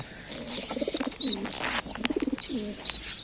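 Young pigeons give soft, repeated cooing calls with a few short chirps, close by, in bursts across a few seconds.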